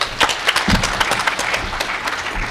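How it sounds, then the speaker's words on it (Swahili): Audience applause at a memorial tribute gathering, welcoming the deputy governor: dense, steady clapping from a crowd, moderately loud and sustained, with no talk over it. "Tumukaribishe kwa makofi."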